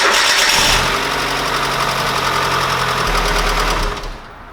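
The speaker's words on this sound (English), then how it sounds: "now we can cruise around if she'll start with your new starter motor" A 1.4–1.5L G4EE petrol engine in a Hyundai Getz cranks briefly on a new starter motor, catches and settles into a loud, close idle before shutting off near the end.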